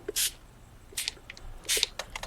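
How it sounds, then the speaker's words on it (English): Three short hissing bursts from a spray bottle misting water onto journal paper, spaced about a second apart, with faint taps and clicks between them. "Do we spray water on it or no?"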